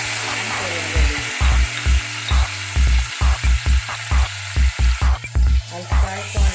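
Vermicelli upma frying in a pan with turmeric, chili and coriander leaves, a steady sizzle broken by a series of rhythmic low thumps, likely stirring or tapping against the pan, close and fairly loud.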